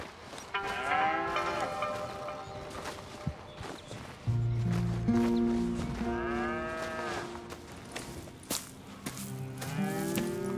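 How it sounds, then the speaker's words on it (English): Cattle on a ranch in Red Dead Redemption 2: several loud, close moos rise and fall in long drawn-out calls, over a bed of footsteps and hooves, with a little background music. "Here's the cows."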